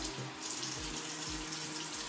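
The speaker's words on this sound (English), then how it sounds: "I'm just gonna use cold water this time." Cold water runs from a bathroom tap into a sink during face washing, a steady close trickling and splashing, fairly quiet and uninterrupted, with no talking.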